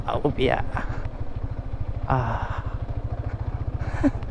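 Motorcycle engine pulsing steadily at close range while riding a rough, rocky road, with the bike's suspension and crank taking hits; someone talks over the continuous rumble throughout.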